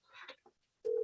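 A mobile phone chirps with a short electronic tone that cuts in after a brief spoken murmur, loud and steady, sounding close by and continuing to the end.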